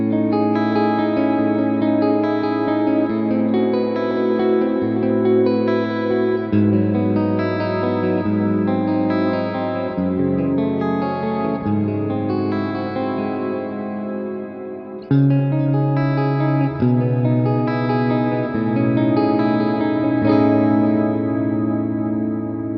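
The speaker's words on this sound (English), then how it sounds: "Here I'm using the second amp, which is a model of the clean channel of the Lonestar, and I'm adding a lot of effects to give you a more musical example." Clean, chordal electric guitar from an Ibanez KRYS10, played through a modelled clean amp channel with heavy echo, chorus and reverb, rings out loud and sustained as a continuous musical passage with no voice.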